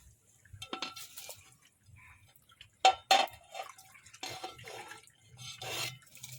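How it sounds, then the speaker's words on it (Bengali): Soaked rice tipped into a pot of boiling water for chicken biryani, heard as scattered clinks of a utensil on the pot, a couple of louder knocks and soft splashes, close and without speech. "এবার এই ফুটন্ত জলের মধ্যে চালটা আমি দিয়ে দেবো"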